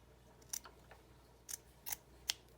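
Scissors cutting felt give four or five quiet, crisp snips at irregular intervals, close up, with no talk.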